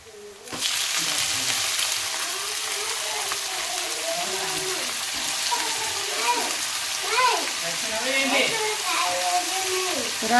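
Grated onions and carrots frying in a pan, giving a continuous soft sizzle with scraping stir strokes throughout, while a person talks over it.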